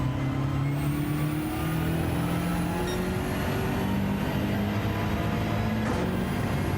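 A BMW racing in Gran Turismo 7 drones with a steady, loud engine note, its pitch climbing gradually through gear changes across several seconds, with no voices.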